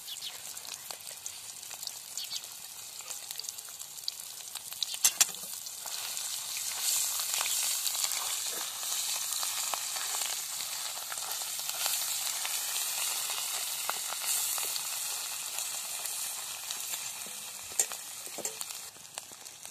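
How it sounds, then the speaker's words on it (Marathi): Ground masala paste fries in hot oil for a village-style mutton curry cooked over a wood-fired chulha. A steady, close sizzle runs throughout with scraping stirs, and a few sharper clinks come through. No one speaks. "आता हे आपण वाटलेला मसाला ह्याच्यामध्ये सोडायचा आणि चांगला असा भाजून घ्यायचा आहे तळून"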